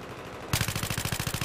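Rapid automatic fire from a G18 pistol in Battlefield 3, a steady burst of about a dozen evenly spaced shots starting abruptly after a short quiet stretch, loud and close.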